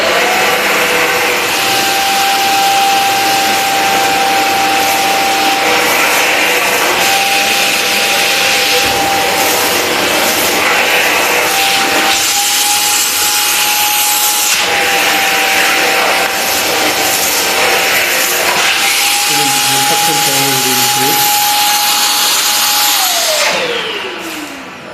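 An Inalsa vacuum cleaner with mop attachment runs steadily and loudly throughout, a sustained motor whine with broadband suction noise that dips and shifts in pitch as the nozzle moves, then winds down near the end.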